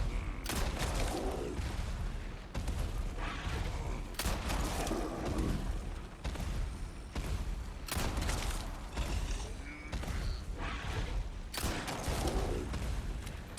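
Repeated pistol shots fired at El Gigante, the giant boss in the Resident Evil 4 video game, with impacts and creaking game effects packed densely together in a steady, loud run of game audio.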